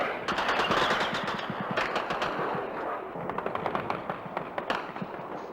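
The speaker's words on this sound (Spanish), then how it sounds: "contestan nuestras baterías antiaéreas y se ve el refulgir de sus disparos en el aire" Anti-aircraft batteries fire during the Falklands War in archival footage, rapid loud bursts of gunfire rattling almost continuously over a roaring background of further shots.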